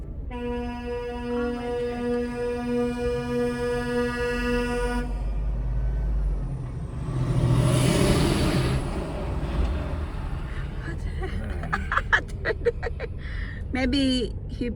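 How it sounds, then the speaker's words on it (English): Road traffic in Jasper National Park: a long horn blast holds for several seconds, then a vehicle passes with a rushing whoosh and an air-brake hiss, followed by rattling clatter and brief knocks, with people talking over it. "ganito po yung traffic dito sa National Park"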